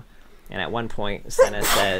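A single sharp sneeze bursts out near the end, right after a person speaks nearby, loud and close.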